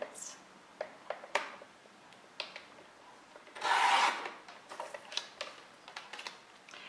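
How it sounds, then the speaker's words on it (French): A paper offcut is trimmed to 6 cm for a handmade album: scattered soft clicks and rubs of paper handling, then a brief, rasping cut through the sheet, all close and quiet. "je prends une chute et je la coupe à 6 cm"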